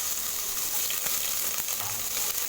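Chopped large onion added to hot oil with crackling cumin and cinnamon, a steady close sizzle that fills the whole clip, with no talk.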